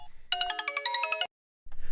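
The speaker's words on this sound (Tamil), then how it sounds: "ஆகாஷ் ஃபோன் பண்றாரு." A mobile phone rings with an incoming call, a bright rapid electronic melody of about a dozen quick tones that stops abruptly, followed by a short silence and then low rumbling room sound.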